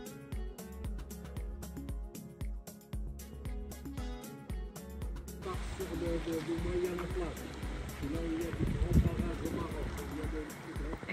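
A stream in a Moroccan desert oasis among palm trees and rocky mountains, heard as a steady broadband rush of flowing water that rises partway through, with music playing throughout.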